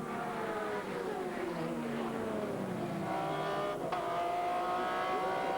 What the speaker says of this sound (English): this is the number 51 GT Porsche coming in for fuel